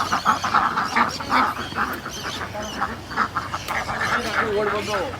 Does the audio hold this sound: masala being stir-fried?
no